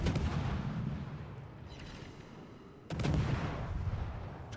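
Naval gunfire in the World of Warships video game, heavy booming salvos with a long rumbling roll, one large report and then a second sharp blast near the end, loud and alone.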